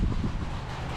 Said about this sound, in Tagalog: Hangin oh.